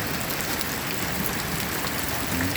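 Heavy overnight rain in Iloilo, a steady dense hiss of downpour pattering on surfaces, constant and close with no pauses.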